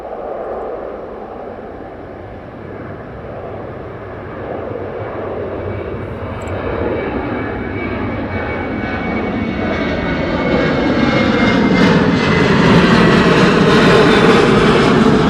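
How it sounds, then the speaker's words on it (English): Ryanair jet airliner departing East Midlands Airport, its engine roar building steadily from moderate to loud as it passes, with no talk. "RYANAIR departure, I do believe."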